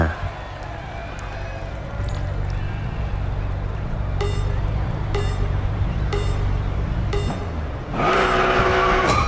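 Cars race in the Racing Master video game, a McLaren 570S, a Porsche 911 and a Nissan R35 GT-R, with a steady engine drone, repeated sharp gear-shift blips and a louder engine surge near the end.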